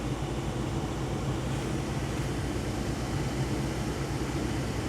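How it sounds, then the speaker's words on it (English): A car's heater fan blows steadily after a new heater motor has been fitted and the engine is running, giving an even, unbroken rush of air with a low engine hum beneath, close and constant throughout. "the heaters are blowing"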